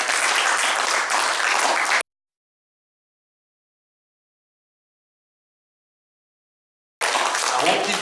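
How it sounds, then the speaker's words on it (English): Congregation clapping hands at a church service, a dense burst of applause for about two seconds, then silence, with the clapping returning near the end. "Give the Lord a hand clap."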